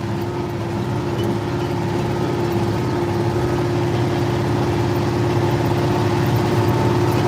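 An International 4786 tractor engine running steadily from the operator's seat, a loud, even low drone with a constant hum and no change in pace.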